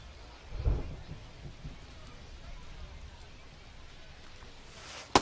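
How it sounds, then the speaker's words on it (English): Steady rain hisses throughout a rainy ballpark scene in the baseball video game MLB 25, with a low thunder rumble near the start and a sharp burst at the end, all moderately loud and without clear talk. "We're coming right up against it with the way this rain is coming down"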